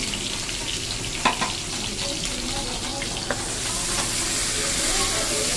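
A wok heats on the stove for cooking chicken, giving off a steady close sizzle with a couple of brief clinks and some watery bubbling, and the sizzle grows slightly louder toward the end without speech.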